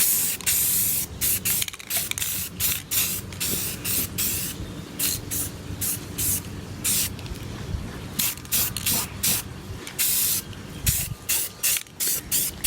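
An aerosol can sprays a light first coat of paint onto a Razor Pocket Mod bike frame, making loud, close hissing bursts in a quick rhythm of short pauses across the whole stretch.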